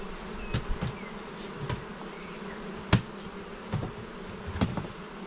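Honey bees buzz around an open hive as a beekeeper shakes them from a frame, a steady faint drone broken by several brief sharp knocks and thumps.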